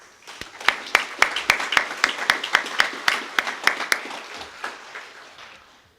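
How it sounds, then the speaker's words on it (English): Sparse, fairly close hand clapping from a small audience at an annual meeting honours the founders, with distinct individual claps in an uneven rhythm that slowly thins out and fades. "I think they deserve a round of applause too"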